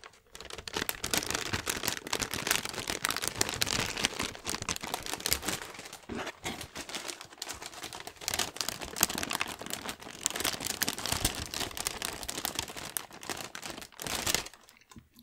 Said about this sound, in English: Do a bit of crinkling on the paper,